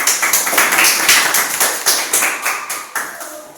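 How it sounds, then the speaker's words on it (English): A group of students clap their hands together in a classroom, a dense burst of close, bright, overlapping claps that carries steadily for several seconds and thins slightly toward the end. "Can you guys give him a hand clap for him,"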